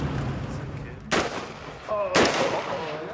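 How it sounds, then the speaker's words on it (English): M16 rifle shots at an outdoor shooting range in Ecuador, two loud sharp cracks about a second apart with ringing tails, over low background murmur. "now we're going to a shooting range where they're going to let us shoot their M16s"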